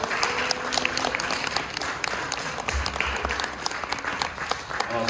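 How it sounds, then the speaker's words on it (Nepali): Wedding guests clap together in dense, continuous applause for several seconds, with a murmur of voices mixed in. "सहमति रहन ताली बजाउँ"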